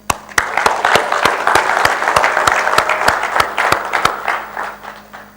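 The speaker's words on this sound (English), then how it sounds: "I would like to start with a big applause to all of you." Audience applause after a business director's opening remarks, a dense wash of clapping with distinct sharp claps punctuating it, loud and steady for about five seconds before thinning slightly.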